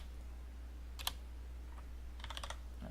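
Number keys tapped on a computer keyboard for CAD entry: a short burst of a few clicks near one second, then a quicker run of several keystrokes toward the end, close and crisp over a low steady hum.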